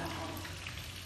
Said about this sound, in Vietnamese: Rồi mình chiên nhà ram luôn cho nó nhanh.